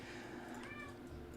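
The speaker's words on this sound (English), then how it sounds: "Why do you meow?" A pet cat gives one brief meow close by. It sits over a constant electronic hum and background game sound.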